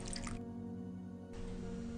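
Ordinary drinking water trickles and drips over pieces of white loaf bread in a deep bowl, a faint, soft wet splashing close by with no talk.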